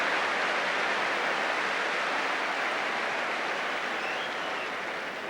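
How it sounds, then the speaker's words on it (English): Loud, sustained applause from a large football stadium crowd at a Tottenham match, a dense, steady roar that fills the whole clip and fades slightly toward the end. "The volume of the applause, I think, spoke a lot about Tottenham's tradition."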